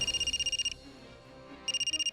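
A telephone rings unanswered indoors, two bursts of rapid electronic trilling separated by a pause of quiet room tone.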